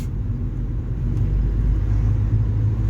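A car with a CVT gearbox accelerates smoothly. A steady low engine and road rumble is heard from inside the cabin, swelling slightly, with no talk.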